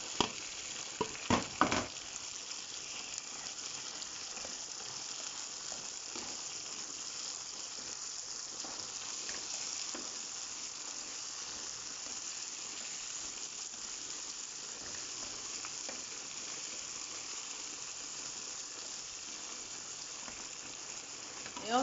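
Chopped tomato frying with softened onions in a pan, a steady close sizzle and crackle running throughout, with a few stirring scrapes near the start.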